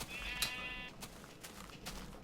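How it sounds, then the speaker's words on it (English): A single short, nasal sheep bleat from a Minecraft game sounds near the start and is fairly clear, followed by quiet ambient clicks. "you got sheep here."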